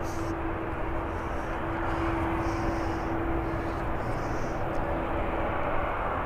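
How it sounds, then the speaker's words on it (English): A Boeing 787 Dreamliner takes off from Birmingham Airport, heard as a steady, distant jet engine roar with a faint droning hum at a fixed pitch, continuous for several seconds. "I will watch this one take off because everybody knows I've got a soft spot for a Dreamliner."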